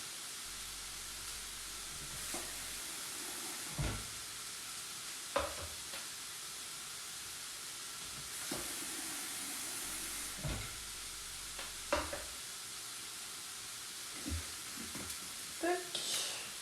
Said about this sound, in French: Et on va rajouter de l'eau.